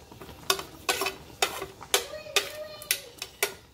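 Onions and cilantro cooking with pork chops in a pan, a series of about nine sharp metallic scraping and stirring strokes at a steady rhythm over a soft sizzle, close by.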